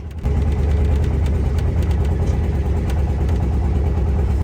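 A trawler boat's engine runs steadily at night, a dense low droning rumble held at an even, continuous level throughout with no voices over it.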